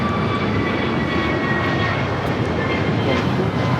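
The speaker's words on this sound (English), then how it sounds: "our next arrival is SAS A350" SAS Airbus A350 airliner arriving at Los Angeles International Airport, a loud, steady jet engine roar with broad rushing noise, heard close and continuous throughout.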